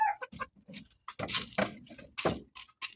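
Pullets, young hens from a Tornado hatch about four months old, cluck and chirp in short, close bursts as they are fed. The calls are fairly quiet and irregular.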